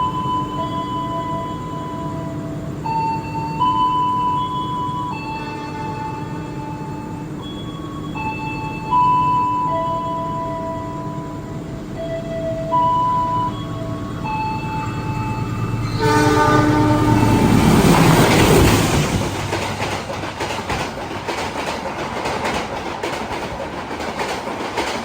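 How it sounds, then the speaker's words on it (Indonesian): The Argo Lawu passenger train in Indonesia approaches with long musical horn blasts, then roars past at speed with a loud rushing whoosh and rapid rhythmic clatter of wheels. "Itu dia kereta api Argo Lawu melintas langsung dan lumayan ngebut juga"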